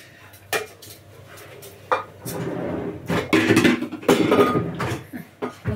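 Dishes are unloaded from a home dishwasher in a kitchen, with close, irregular clinks and clatters of plates and cutlery set down one after another, interspersed with brief scraping and handling sounds.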